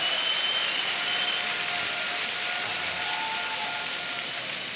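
Applause for the Spanish team at a pétanque quarter-final between France and Cambodia, a steady, moderately loud patter of many hands clapping heard from within the crowd, with faint tonal whistles in the background.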